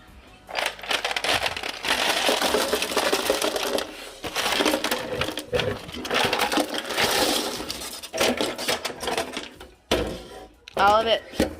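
Ice from an ice machine tumbling into a sink during household cleaning, producing clattering, rattling bursts of cubes that come and go in several loud waves with brief pauses between.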